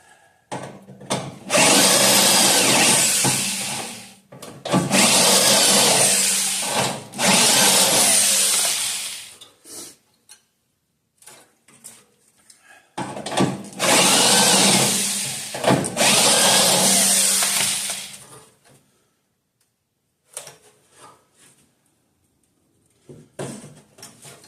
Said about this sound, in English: I'm going to end up grinding that a little bit deeper